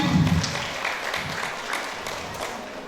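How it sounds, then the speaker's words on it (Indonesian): A workshop audience applauds as a speaker is invited to the front. The clapping is moderate and fairly even, starting with a brief low rumble and then settling into a softer spread of claps. "Beri tepuk tangan yang meriah."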